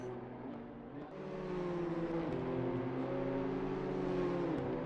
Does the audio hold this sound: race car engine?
yes